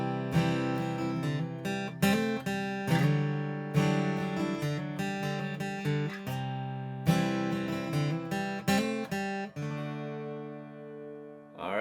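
Steady acoustic guitar alternating two chords with bass notes, strums and quick melodic licks, played alone and close for several bars.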